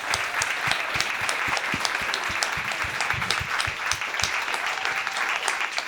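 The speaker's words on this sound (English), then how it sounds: "Can we get a round of applause," A panel audience at an NYU exhibition roundtable gives a round of applause, sustained dense clapping from a crowd that fills the room evenly from start to finish.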